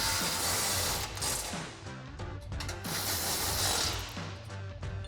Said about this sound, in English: we'll tighten both of these up with a 16mm socket